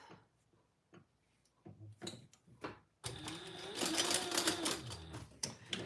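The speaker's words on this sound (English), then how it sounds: "I'm just going to sew these at the ends." A sewing machine stitches the ends of matching fabric accessories, starting with a few short clicks and stops, then running in a loud, continuous whirring burst close by.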